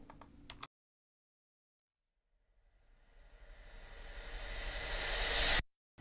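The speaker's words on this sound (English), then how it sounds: "We've got this hairspray that we turned into a riser." After a short blip and a pause, a hairspray hiss turned into a riser swells steadily louder and brighter, then cuts off abruptly.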